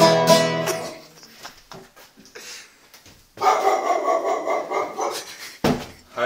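A dog barks loudly and close, a few sharp barks at the start, then a longer, sustained bark and another near the end.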